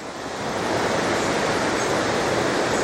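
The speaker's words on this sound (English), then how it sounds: "you can hear the noise already. There's a set of rapids down there." River rapids near the Falls of Falloch rush in a loud, dense, continuous broadband roar that swells in over the first half second and then holds steady, with no voices.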